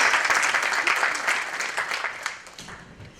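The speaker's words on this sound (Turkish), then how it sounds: "Şöyle kocaman bir alkış alın sanatçılarımıza." An audience at an exhibition of paintings marking the Turkish Republic's 100th year applauds the painters, a close burst of clapping that gradually tapers off.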